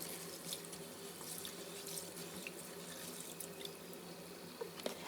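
Water drains and trickles quietly from washed rice in a sink, a soft continuous flow with faint splashes, no one speaking.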